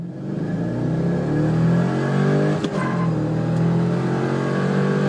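A loud Corvette C6 V8 engine revs high toward 6,500 RPM and holds, with a brief dip as the pitch drops mid-way before climbing again, close and continuous.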